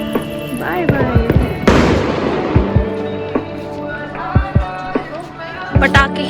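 Diwali firecrackers go off in a string of sharp, loud cracks and pops at uneven intervals, with one big burst early on, while people talk nearby.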